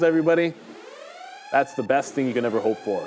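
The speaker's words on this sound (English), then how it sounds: "Yeah, that's the siren right there." A siren sound effect plays during a stock-market live show: a rising electronic wail swells in a short gap between talk and continues faintly beneath the voices.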